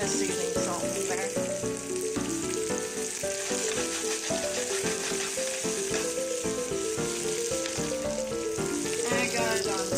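Food sizzles steadily in a pan over medium-high heat with seasoning salt, a constant close frying hiss layered under background music, with occasional stirring scrapes.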